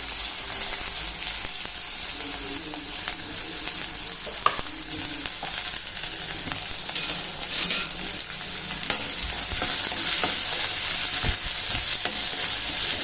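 Chopped onion fries steadily in a pan for a potato curry, with continuous bright sizzling broken now and then by stirring scrapes, steady and fairly loud throughout.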